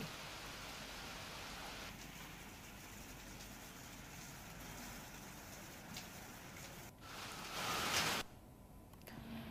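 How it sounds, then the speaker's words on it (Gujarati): Steady heavy monsoon rain in Gujarat hisses at low volume, a constant wash of noise that swells briefly louder near the end before settling again. "કપરાડા અને ધરમપુરમાં પણ ધોધમાર વરસાદ વરસી રહ્યો છે"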